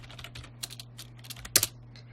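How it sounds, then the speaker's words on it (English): Quick keystrokes on a computer keyboard, a short run of light, irregular taps with one sharper clack near the end, close and fairly quiet over a faint steady hum. "let's type in BVE Western Region"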